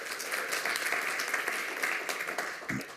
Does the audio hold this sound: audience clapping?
yes